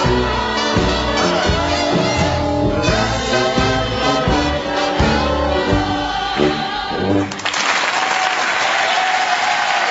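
Music from a singer and a boys' choir plays for several seconds, then cuts off into loud, sustained audience applause.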